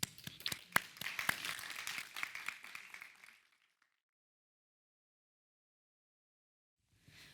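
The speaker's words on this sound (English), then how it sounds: "Round of applause." Conference audience applauds in a dense burst of clapping for about three seconds, then it cuts off into near silence before a faint sound returns at the end.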